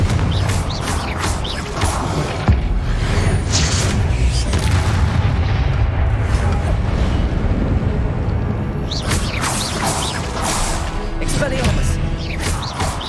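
Confringo spell explosions in Hogwarts Legacy, heavy booming blasts with crackling bursts over continuous loud combat rumble. Voices can be heard faintly in the mix.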